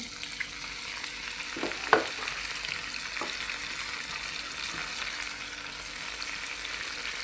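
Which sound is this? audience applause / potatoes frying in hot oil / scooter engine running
potatoes frying in hot oil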